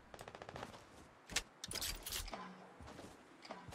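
Rapid automatic gunfire in Fortnite, a quick rattling burst of shots followed by a couple of heavier blasts and more scattered fire, fairly quiet and distant-sounding.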